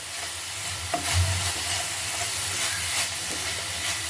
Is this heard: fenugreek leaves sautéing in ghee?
yes